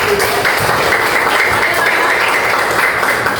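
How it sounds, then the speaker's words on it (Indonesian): A classroom of students claps their hands together in a steady, dense burst of applause that continues evenly throughout, fairly loud and close, with faint voices underneath. "Tepuk tangan dulu."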